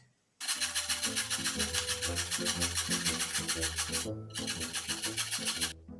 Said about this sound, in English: when you grate carrot, does it also fly all over the place?